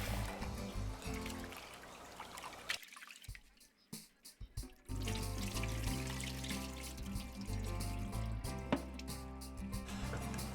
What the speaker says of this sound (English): I'm gonna add water into the rice